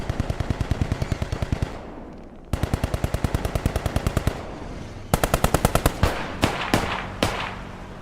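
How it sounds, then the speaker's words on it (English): Close, loud gunfire from the WWII shooter game Squad 44, attributed to an M1941 Johnson rifle, comes as three rapid, evenly spaced bursts of shots separated by brief pauses, ending in a few scattered single shots. "I heard a Johnson rifle there as well, unless it's the MG on semi-auto"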